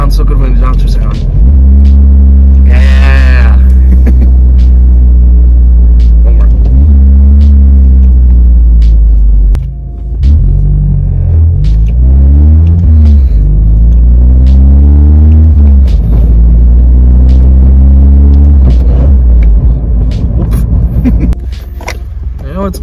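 Steady engine rumble from a 2016 Mazda 3 GT with a Corksport 60.5 mm catback exhaust cruising on the road, rising and dropping repeatedly through gear changes over about twenty seconds, heard close from inside the car with a voice speaking over it.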